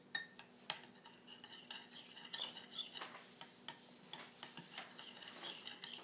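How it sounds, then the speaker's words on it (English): A spoon stirs a homemade vitamin E hair treatment mixture made with gel from supplement capsules, giving faint, irregular clicks and scrapes against the bowl in a quiet room. "Mix it properly."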